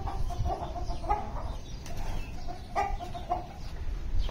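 Chickens clucking in a backyard pen holding hens and a goat, a string of short murmuring clucks at moderate distance over steady low background rumble, no speech.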